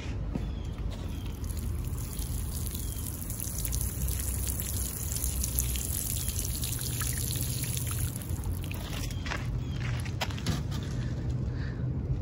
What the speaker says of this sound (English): I'll show you what happens on this patch of bare soil when it rains